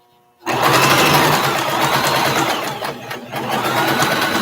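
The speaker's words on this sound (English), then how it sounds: "I'm going to just kind of sew, backstitch, continue with that same allowance, 3/8 of an inch." A sewing machine starts up after a brief silence and runs fast and steady while sewing a backstitched seam at a 3/8-inch allowance for a boxy bag, with a short pause near the end and no talking.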